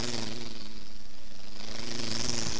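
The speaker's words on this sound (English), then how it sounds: "Worst lawnmower ever." A powerful lawnmower engine in the Sega CD video game Panic, a continuous loud droning motor with a rough, buzzing texture that runs steadily throughout with no talking.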